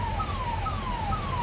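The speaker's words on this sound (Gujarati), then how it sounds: "એમ્બ્યુલન્સનો અવાજ આવે ને કંઈક કેવું લાગે નવા જૂની" An ambulance siren sounds in highway traffic near Chotila, a repeating falling wail over a steady low road rumble, heard at a distance and without voices.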